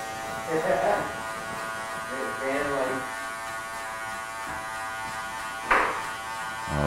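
Andis Master electric hair clippers run with a steady, close buzzing hum during a barbershop taper fade, while someone talks over the sound.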